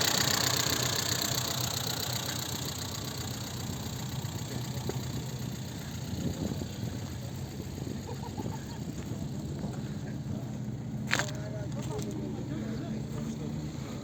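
A 1996 Daewoo Nexia engine idles at a busy bazaar in Nookat, giving a steady mid-pitched hum with faint knocking. Chatter and market noise sit over it, and a sharp clank is heard partway through.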